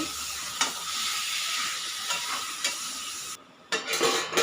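A pan of khobra chicken being stirred while it fries: continuous close sizzling with periodic scraping strokes of the spoon, then a short lull and a few more stirs.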